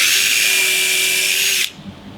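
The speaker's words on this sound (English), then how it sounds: "Just want to drill in, always." A power drill driving into wood whines loudly and steadily for over a second, then stops abruptly, leaving quiet room noise.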